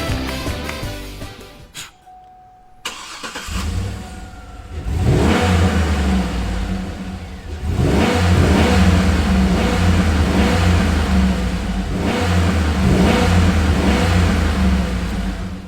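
A young couple's old first car has its engine revved hard, a loud, sustained droning roar that starts after a short quiet gap and holds steady with wavering pitch.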